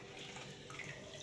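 Water pouring out of a container, a soft, continuous splashing trickle like a running tap, heard briefly on its own.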